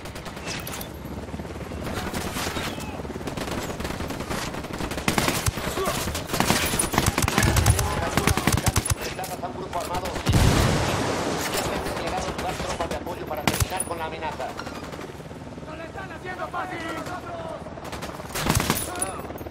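Sustained automatic gunfire fills the Ghost Recon Wildlands shootout with dense, loud, rapid bursts and heavier impacts throughout, while squad voices speak over the fighting.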